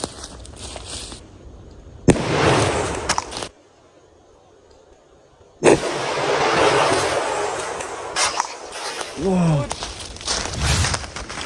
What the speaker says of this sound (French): Ça reste que des grenades à airsoft, c'est-à-dire c'est autorisé dans le monde de l'airsoft